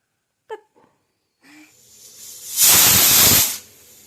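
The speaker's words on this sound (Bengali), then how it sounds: "আমার প্রেশার কুকারের সিটি দিয়ে শুরু করলাম আজকের দিনের ভ্লগটা" A pressure cooker whistle blasts loudly, a sustained rush of escaping steam lasting about a second, preceded by a few faint bumps and a low hiss rising from the pot.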